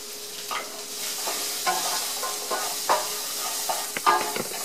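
Cumin, cinnamon, crushed red pepper and coriander sizzle in a hot pan for Moroccan lamb stew, a continuous close hiss broken by several sharp stirring scrapes and clicks.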